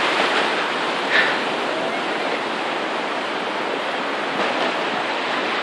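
Rough ocean surf at sunset on a beach, a continuous broad roar of breaking waves with slight swells, heard close and loud without voices.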